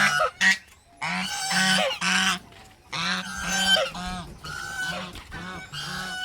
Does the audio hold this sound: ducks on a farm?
yes